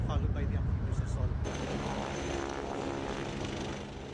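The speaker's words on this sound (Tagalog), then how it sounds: "Lumipad din ang multipurpose naval helicopter na Augusta Westland 109 para sa reconnaissance operations" An AgustaWestland 109 multipurpose naval helicopter flying during a beach reconnaissance and amphibious assault exercise gives a broad, steady rotor and engine roar, with a person talking over it early on.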